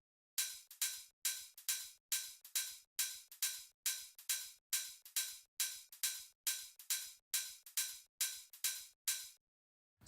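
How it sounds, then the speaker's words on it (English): Offbeat hi-hat pattern from an electronic dance track, crisp bright ticks landing evenly between the beats, about sixteen hits over ten seconds, close and dry with no other instruments or voices. "And then with the offbeat hi-hat,"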